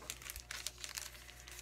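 A stack of art paper being handled gives off quick, close crinkling and rustling bursts, several sharp papery crackles in an irregular rhythm over a quiet background.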